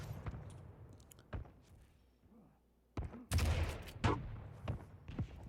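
Rocket launcher fire in a Quake Pro League deathmatch, heard as several sharp explosive blasts, with one loud burst near the middle followed by repeated thuds, mixed with scattered game effects and no talk.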